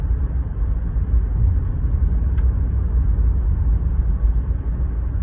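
Steady low rumble of road noise heard from inside a moving car, loud and continuous with no speech, plus one brief faint click partway through.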